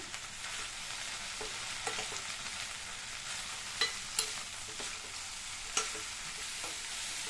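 Okra masala fry (vendakkai) stirred in a hot pan, a steady sizzle of frying with occasional sharp spatula clicks and scrapes against the pan, close and continuous.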